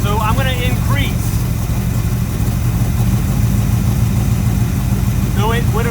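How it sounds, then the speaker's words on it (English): A 1974 Corvette's SBC 350 V8 runs with a steady, loud mechanical drone that holds fairly constant. Someone speaks briefly at the start and again near the end. "as I increase or decrease, you should see the RPM of the engine go up or down"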